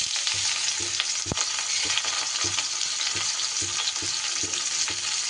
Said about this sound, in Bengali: এবার এই তেলের মধ্যে সবার প্রথমে আমি উচ্ছেগুলোকে ভেজে নেব।